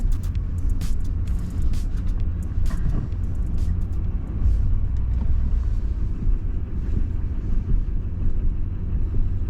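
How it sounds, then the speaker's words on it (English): A car approaching at night near an airport, a steady low rumble of engine and road noise that swells slightly midway, with scattered faint clicks and rustles nearby; no one speaks. "There's his car."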